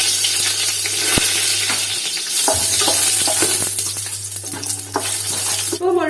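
Whole spices, including bay leaf, cinnamon, cloves, star anise, mace and cardamom, sizzle loudly in hot ghee while being stirred, with a constant crackling hiss and occasional spoon scrapes and clinks against the pan.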